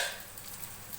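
Mutton chukka fries in a pan, a steady broadband crackle and sizzle holding at an even, moderate level throughout, close and continuous with no voices.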